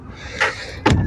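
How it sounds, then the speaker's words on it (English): A door on a boat is pushed shut, giving a light knock followed by a louder close thud, both near and short, with no talking. "and we can shut the door."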